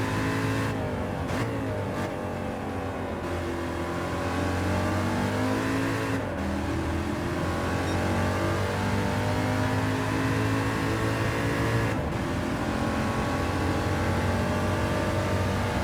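A touring car engine in Gran Turismo 7 revs hard toward its roughly 7,500 RPM red line, holding a loud, steady buzzing drone with brief dips where the revs drop and climb again.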